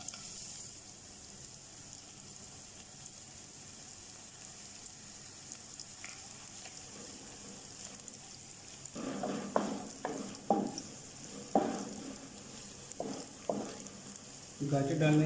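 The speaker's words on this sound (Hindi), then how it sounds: "अभी हमारा ऑयल गर्म हो चुका है, और सबसे पहले हम इसमें गाजर ऐड करेंगे" Sliced carrots sizzle in hot oil in a pan with a steady, soft hiss, and a few louder clatters and stirring scrapes come in toward the end.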